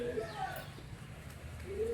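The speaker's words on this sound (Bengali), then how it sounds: "পায়রা উড়া খেলা পায়রা রয়েছে দেখে নিন ভালো করে" Pigeons kept for flying contests, including Murshidabad Giribaz, Madras and red-barred pairs, coo softly and repeatedly close by, with speech and faint background bustle around them.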